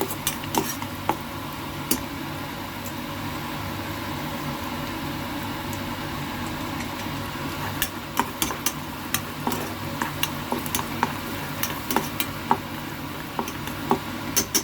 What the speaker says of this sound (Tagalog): Haluin natin yung garlic.